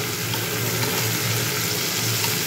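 Potatoes for a Bengali white aloo chorchori frying and being stirred in a pan over high heat, a steady close hiss of sizzling oil throughout with no pauses.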